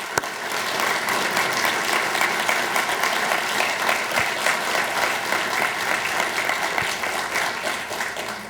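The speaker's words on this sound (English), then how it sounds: "Could you join me in giving them a round of applause as thanks?" A room full of people at a public informational meeting applauds in thanks, a loud, even burst of clapping holding steady for about eight seconds.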